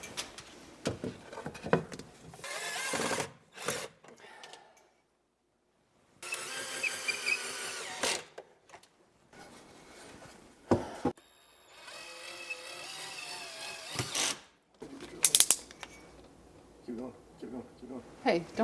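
Short bursts of a power drill whirring as it drives screws while installing a kitchen range hood, starting and stopping several times at close range, with people talking in between.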